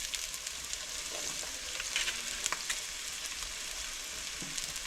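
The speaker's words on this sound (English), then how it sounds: "Saute the onion with the salt" Chopped onion sautéing with salt in a hot pan, a steady bright sizzle with occasional crackles and a few soft stirring scrapes, close and continuous throughout.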